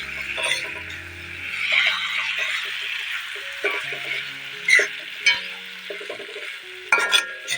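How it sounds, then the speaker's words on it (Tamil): Mutton pieces for mutton chukka stirred and frying in a pan: a steady close sizzle with repeated scraping strokes of a spoon against the metal, rising in bursts throughout. "மட்டனை சேர்த்து வச்சு சேர்த்துட்டு நல்லா கிளறி விடுறோம்"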